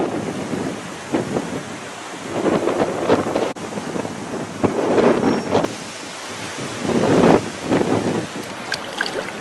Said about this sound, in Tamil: சிறுவாணி அணை நீர்ப்பிடிப்பு பகுதிகளில் கனமழை பெய்வதால் அணைக்கான நீர்வரத்து அதிகரித்துள்ளது